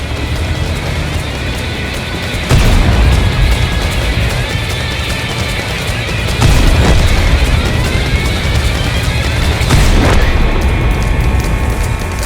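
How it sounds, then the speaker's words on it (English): Self-propelled artillery guns in World of Tanks fire in heavy booming blasts, three loud, sharp reports spaced a few seconds apart over a constant engine rumble, with no talking. "Both SPGs fire, turning themselves from a deadly threat to harmless fish in a barrel"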